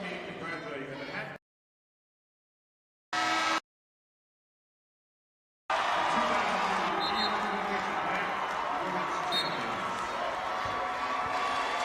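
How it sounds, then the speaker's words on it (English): A crowd at a 2003 MAAC basketball championship semifinal in an arena cheers for the Manhattan Lady Jaspers, a broad, sustained roar after brief cut-outs, with voices mixed in. "You hear the cheer go up in the crowd for the Manhattan Lady Jaspers"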